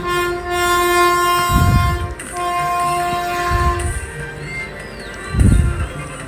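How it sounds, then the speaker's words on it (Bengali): Darjeeling toy train passing on the Siliguri line in the hills, a steady rail rumble with a sustained horn tone and heavy low thumps of the wagons rolling close by, no talk. "আমরাও লাকিলি টয় ট্রেনটি দেখতে পেয়ে গেলাম"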